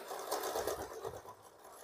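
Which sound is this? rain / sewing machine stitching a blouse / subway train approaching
sewing machine stitching a blouse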